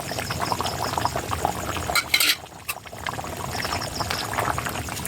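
Homemade spice mix goes into boiled beef in a pot over a clay stove, a short burst of pouring and clattering amid bubbling liquid and stirring.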